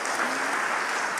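A church congregation applauding during a sermon, with a dense, steady wash of clapping from many hands throughout.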